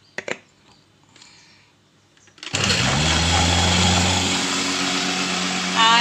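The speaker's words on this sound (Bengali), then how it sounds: "আবার ব্লেন্ড করি।" A kitchen blender whirs loudly and steadily while blending a mango shake with milk, starting abruptly after a few faint clicks and running on without a break.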